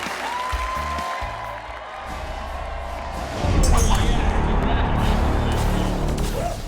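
Enthusiastic crowd at a long drive golf championship, steady applause and cheering swelling louder halfway through, with a sustained tone and scattered crowd noise underneath.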